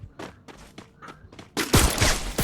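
Gunfire in a shooting video game: a run of separate single shots with short gaps, then a denser, louder burst of firing toward the end.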